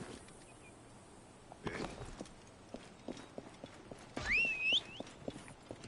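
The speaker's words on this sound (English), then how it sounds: "I'm trying to call my horse, but it won't let me for some reason." A horse gallops in Assassin's Creed Origins after being called, with steady rhythmic hoofbeats over a soft background and a loud neigh close by near the end.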